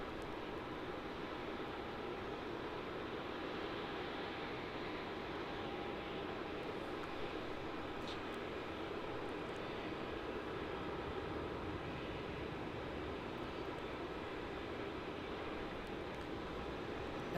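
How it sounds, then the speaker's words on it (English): Jetstar Airbus A320 arriving at Melbourne Airport from Launceston, a faint, steady, broadband jet roar that holds evenly at a distance throughout. "And our next arrival is going to be the Jetstar A320, arriving in from Launceston"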